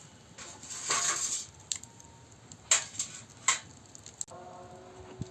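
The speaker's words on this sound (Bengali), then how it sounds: "উনুন ধরে গেছে, আমি কড়াটা বসিয়ে দিচ্ছি।" A metal karai wok set down on a lit stove in a home kitchen, giving a few sharp clanks and clatters with brief metallic ringing, then quieter ticks and taps, fairly close with no talking.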